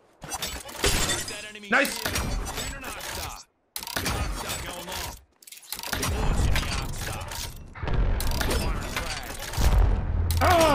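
Grenades explode in the shooter game Apex Legends amid bursts of gunfire, shattering crashes and mechanical clatter in choppy loud bursts separated by brief silences, while players talk and exclaim excitedly over the action.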